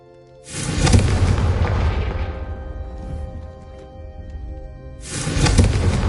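Confringo blasting spells from the Hogwarts Legacy video game go off as two loud, booming explosions, one after a short quiet start and another near the end, each with a long rumbling decay between them.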